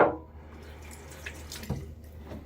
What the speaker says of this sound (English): One more little kind of mini splash of water.